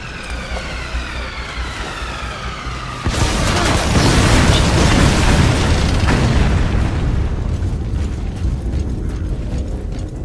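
A support air strike in Metal Gear Solid V: The Phantom Pain: after a few seconds of mechanical whirring, a loud, sustained roar of explosions erupts and keeps rumbling, thick and close, to the end.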